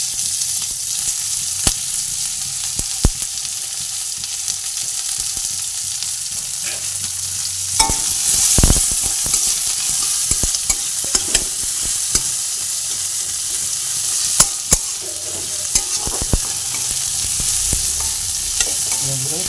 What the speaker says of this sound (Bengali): পেঁয়াজগুলো আমি ভেজে নেব।